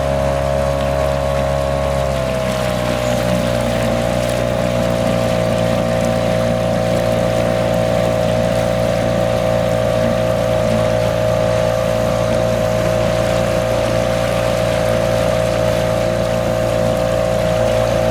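A boat's outboard motor drones steadily on a river, a continuous loud hum with a slight pitch drop early on, water rushing faintly beneath.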